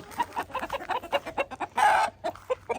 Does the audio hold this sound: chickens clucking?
yes